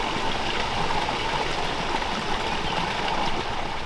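Water flowing out of dynamising basins in a steady, dense rush like a mountain torrent, loud and continuous throughout with no voices.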